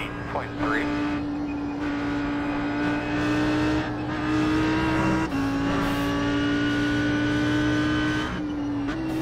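An Audi R8 GT3 racing engine at Mosport in iRacing holds a loud, sustained note, dipping briefly with gear shifts around corners and then climbing again, with faint tire noise underneath.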